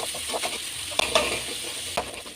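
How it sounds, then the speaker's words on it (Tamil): Chopped onion sautés in a pan over a steady moderate sizzle, with a few sharp spoon scrapes and taps against the pan breaking through the hiss. "வதக்கிக்கலாம். நல்லா வதங்கட்டும்."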